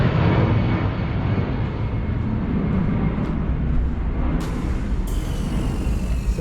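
Steady, loud broadband roar of an airplane passing over a hillside home in San Diego under the approach path to the airport, constant throughout with no voices.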